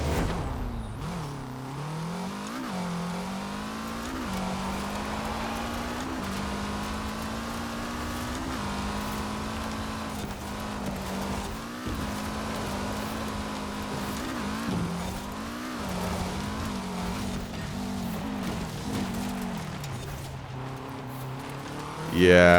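A Peugeot car races in Forza Horizon 4, its engine droning and revving steadily up and down through gear changes, loud and continuous throughout.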